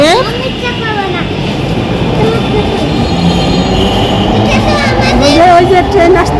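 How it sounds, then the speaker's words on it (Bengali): An elevated metro train pulls into Shewrapara station in Dhaka with a loud, sustained roar and high, sliding wheel squeals overhead, while voices murmur beneath the din. "ওই যে ট্রেন আসতেছে, ওই ওই পাশে দিয়ে, উপরে উপরে। কি শব্দ ট্রেনের!"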